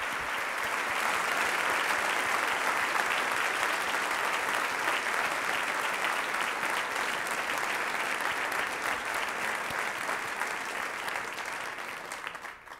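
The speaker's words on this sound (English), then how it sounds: "Now let's give them all a huge round of applause." Sustained audience applause at an awards dinner fills the room at a steady, dense level for about twelve seconds, then tapers off at the very end.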